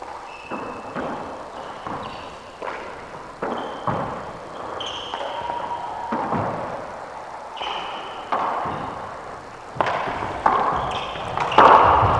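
A handball smacks against the court walls during a four-wall handball rally at a men's world championship final, sharp echoing thuds and pings in an irregular rapid sequence inside a reverberant court, with occasional squeaks.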